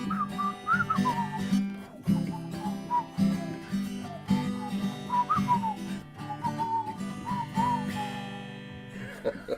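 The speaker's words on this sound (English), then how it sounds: "I can never get that whistle right." A person whistles a melodic tune with wavering, sliding pitches, loud and close, over a low steady musical accompaniment at an evening showcase performance.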